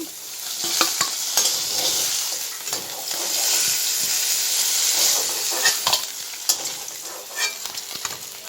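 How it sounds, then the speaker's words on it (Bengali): Potatoes frying dry in a pan as they are stirred: a steady, close sizzle runs throughout, broken by repeated scraping spatula strokes, with no voices. "আলু ভাজা হয়ে গেছে যে দেখুন শুকিয়ে নিচ্ছি"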